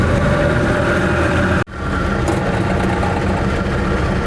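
A loud, harsh Invacar (TWC 725K) engine drones steadily in slow traffic, with a brief sharp dropout partway through before the rough noise returns at full strength.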